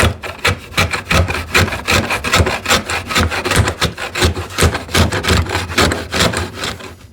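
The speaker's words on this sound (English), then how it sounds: "I have to come with the chisel because that is angled." Hand chisel paring an angled cut in wood for a TV unit, a loud close series of rapid rasping scrapes repeating in an even rhythm with no talk.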